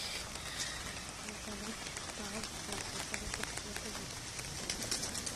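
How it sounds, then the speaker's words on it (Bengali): Pigeons outside in the rain give soft, steady cooing over a constant hiss of rainfall, with a voice talking faintly in the background. "বাইরের কবুতরগুলো শো দেখায়।"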